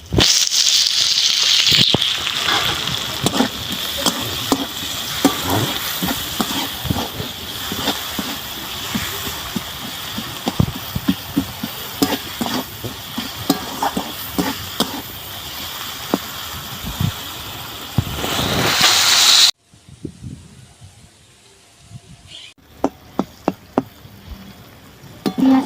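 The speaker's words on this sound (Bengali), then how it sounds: "পেঁয়াজটা আমি এইভাবে ভেজে নিয়েছি" Chopped onion with green chilli and a pinch of salt sizzles in a pan as a spatula stirs and scrapes steadily, loud and close. The frying cuts out near the end, leaving a few sharp clinks.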